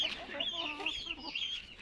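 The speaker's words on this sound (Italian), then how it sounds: "Gallina." A hen clucks in a series of short, close calls among chicks and other fowl in a hatching pen, with faint background noise and no clear talk.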